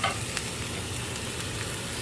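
Vegetables seasoned with Italian herb seasoning sauté in a pan for a Philly cheesesteak pizza, a close, continuous sizzle with light stirring scrapes and no voices.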